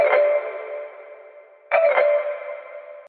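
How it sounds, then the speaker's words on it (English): A reversed synth chord swells with heavy reverb into a short riser, played twice in a row, bright and sustained with a sharp cutoff at each peak, alone in a UK garage production built from an arcade sample pack. "I've bounced out the first chord, reversed it, and added a ton of reverb to create this short riser effect"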